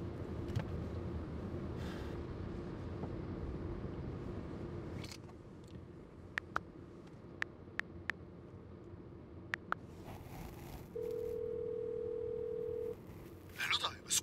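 Steady telephone dial tone heard over a phone call during a Danish road-trip episode, a continuous flat tone lasting about two seconds near the end, with clicks and talk around it.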